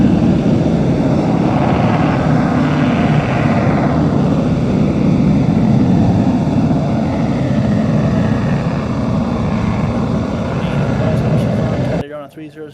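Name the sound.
Avro Vulcan bomber on its takeoff roll at airshow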